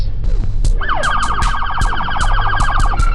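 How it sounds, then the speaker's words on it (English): A police siren wails loudly and close by, rising and then pulsing in a rapid repeating yelp over traffic noise. "Police sirens sounded."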